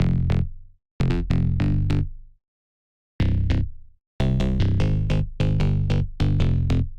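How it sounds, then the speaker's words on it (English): A heavy, distorted synth bass from a hyperpop beat thumps out short repeated notes in bursts separated by brief silences, loud, close and alone. "And there's also a bass in there."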